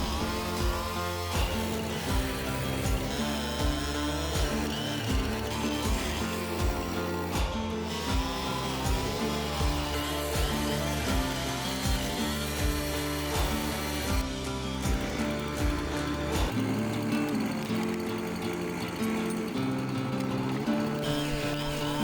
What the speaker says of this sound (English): you can see I start to draw the lines in with my chainsaw and establish where the stem is